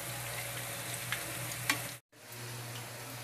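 Corned beef lumpia fry in hot oil with a close, even crackling sizzle, broken by a brief silent gap before the sizzling resumes.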